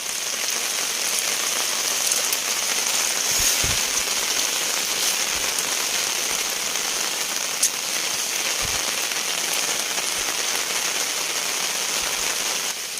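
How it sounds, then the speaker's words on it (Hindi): Heavy rain on the Tungnath trek in the Uttarakhand mountains, a dense, continuous hiss of downpour with a few dull thumps and no talking. "और चारों तरफ अभी भी बारिश हो रही है और बारिश अभी बहुत तेज़ हो चुकी है"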